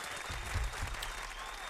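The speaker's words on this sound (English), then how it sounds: "Give this man a round of applause" A studio audience applauds a guest on a hip-hop interview show: a dense, steady wash of clapping, fairly loud and close, running throughout without fading.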